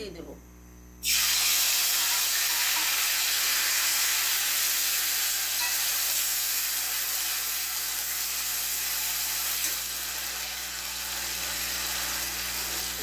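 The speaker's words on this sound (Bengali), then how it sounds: "এখন গুঁড়া মাছটা রান্না করে নেব সরিষার তেল দিয়ে দিলাম" Small fish frying in mustard oil starts abruptly with a loud, close burst of hissing sizzle, which then carries on as a dense, even crackle to the end.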